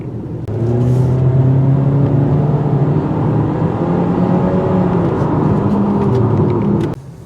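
A 2018 Mitsubishi Eclipse Cross SUV with a CVT transmission on the road: steady engine drone and tire and road noise heard from inside the cabin, with a gently rising pitch as it accelerates, loud and continuous.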